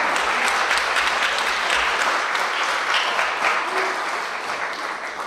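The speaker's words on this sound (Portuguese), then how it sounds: "Para aplaudir com força." A large crowd applauds loudly and continuously, dense clapping filling the whole stretch with only a slight fade toward the end.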